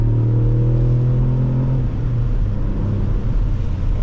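A Ford Fiesta ST with a 200 hp engine accelerates gently in normal mode, a steady, close engine drone whose low tones rise in pitch over the first two seconds before settling into a rougher rumble of road and engine noise.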